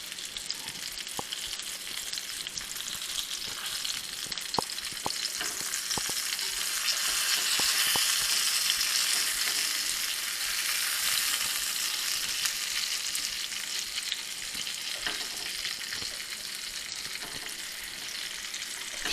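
A fish tail sizzles and crackles steadily in a hot frying pan, with a few sharp pops and clinks throughout.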